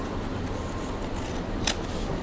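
Scissors snipping and rubbing through paper during a messy decorative switch plate craft, a steady soft rustle with a brighter cut near the end, no talking.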